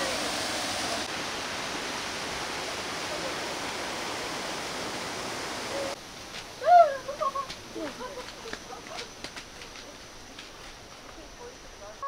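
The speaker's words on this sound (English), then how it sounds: "Yeah, that's the waterfall right there." Akaka Falls in Hawaii roars as a steady broadband rush of falling water, loud and constant through the first half, then quieter and more distant with birds and people talking over it.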